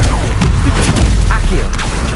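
Spell blasts and impact crashes from the Hogwarts Legacy video game, a dense run of booming hits over continuous game sound, with a voice speaking throughout.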